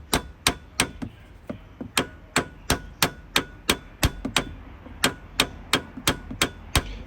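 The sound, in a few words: hammering socket onto nut, Vauxhall Corsa suspension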